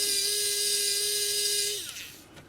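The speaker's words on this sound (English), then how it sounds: "So what I want to do is just anywhere in there I can drill" A small drill bores into the plastic shell of a Kato P42 model locomotive, a steady high whine running close and loud for almost two seconds before spinning down and stopping.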